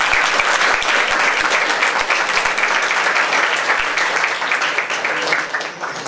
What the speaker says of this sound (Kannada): ಇದಕ್ಕೆ ಜೋರಾದ ಚಪ್ಪಾಳೆ ಮಾಡಿ